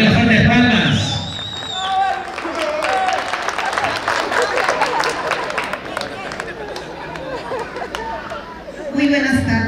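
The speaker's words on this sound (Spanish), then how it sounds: "Cambio, vienen las grandes palmas." Guests at a baptism celebration clap and chatter in a lively crowd, the applause mixed with voices and hubbub, while speech and music-like tones sound before and after the clapping.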